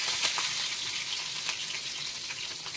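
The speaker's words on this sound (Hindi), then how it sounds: "जीरा डाल दिया है, राई डाल रही हूँ और ये हरी मिर्ची," Cumin, mustard seeds and green chillies frying in hot oil, a steady bright sizzle with small crackles and pops, close up and unbroken by talk.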